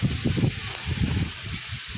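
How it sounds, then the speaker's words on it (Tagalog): Gusty wind at a pigeon derby race buffets the microphone with a low, rumbling roar and rustling noise throughout. "Tingnan yung hangin dito, napakalakas."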